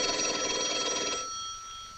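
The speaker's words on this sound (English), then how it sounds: "Your phone's ringing." An old-fashioned telephone bell rings loudly with a rapid metallic trill for just over a second, then stops, leaving a steady hum; no talking.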